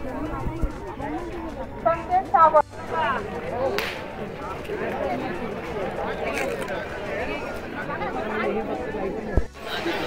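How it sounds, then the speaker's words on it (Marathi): A dense crowd chatters continuously at a busy Hindu temple, with overlapping nearby voices and a steady babble of many people moving through the grounds toward the darshan queue. "गर्दी बघा किती या नुसती माणसं येतातच."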